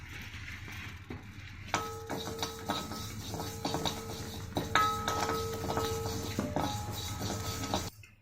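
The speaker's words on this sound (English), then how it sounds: "We're going to dry roast the moong dal." Moong dal dry roasting in a hot pan with a little ghee, giving a continuous dry rattle and scrape of lentils moved over metal with scattered clinks, fairly close and steady, with no talking.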